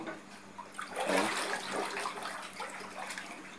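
Floodwater pouring and splashing into a house during a flood, a steady rushing wash with louder surges near the middle, close by and with no talking.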